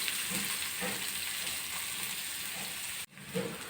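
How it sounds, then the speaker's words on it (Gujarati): Onion sautéing in oil in a pan, a steady close sizzle and frying hiss with faint stirring scrapes, broken by a brief dip near the end. "અને ડુંગળીને થોડીક સોફ્ટ થાય ત્યાં સુધી સાતળવાની છે."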